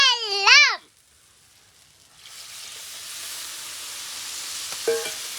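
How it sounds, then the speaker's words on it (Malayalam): Tomato and tamarind water boil in a pan. A soft, steady bubbling hiss begins after a short tonal whistle and a pause, then holds at a moderate level with a faint clink near the end. "തിളക്കുന്നുണ്ട്."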